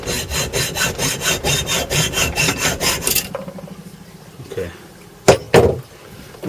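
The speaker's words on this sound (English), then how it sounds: "Just as if I was hacksawing through something." Hacksaw cutting through a stainless steel bolt: about a dozen rhythmic, rasping strokes at close range, then the sawing stops, followed by a couple of sharp knocks.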